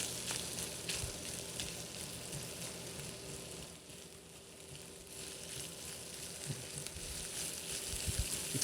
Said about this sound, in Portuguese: Deixa ela dar uma fritadinha junto com o bacon.